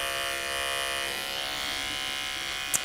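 Electric clippers fitted with a #15 blade buzz steadily and close up while shaving between the nose of a Bichon Frise during grooming at a pet salon, with one brief sharp tick near the end.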